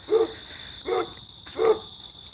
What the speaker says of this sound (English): That's the old dog barking.